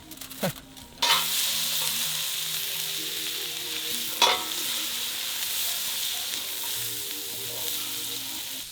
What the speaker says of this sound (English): We're grilling the broccoli last because they don't really need to cook for that long